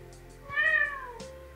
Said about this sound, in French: Non, bébé chat.